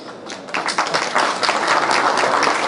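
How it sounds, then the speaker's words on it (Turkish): A crowd applauds, the clapping building from a scattered patter into steady, dense applause. "Onları alkışlıyorum."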